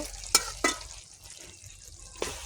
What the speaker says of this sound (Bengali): তরকারি আমি ভালো করে আবার নেড়ে দেব